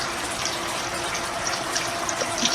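Water tumbles steadily over a backyard pond waterfall into a pool about 3.5 feet deep, a constant close splashing rush with no pauses.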